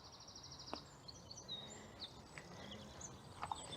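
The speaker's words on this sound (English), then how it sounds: "Listen to the birds." Faint, distant birdsong drifts through a quiet outdoor Somerset setting near a church: scattered high chirps and short trills over soft background hiss, with no talking.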